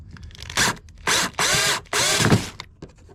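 A cordless power drill drives a screw to fasten a 12 volt power port in a Bass Tracker boat, in three close whirring bursts with brief pauses and small clicks between them.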